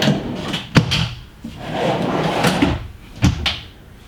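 A large drawer slides beneath the raised bed of a converted school bus, with several sharp wooden knocks and rolling scrapes over a few seconds, close by, and no one speaking.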